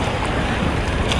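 Steady broadband rush of ocean surf and wind in Thailand, with waves washing continuously and a gusty microphone buffeting throughout. No voices.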